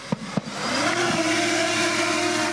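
Two sharp clicks, then a high motor whine spins up and holds steady, a near, buzzing drone of rotors as a custom-built military reconnaissance drone rises into flight.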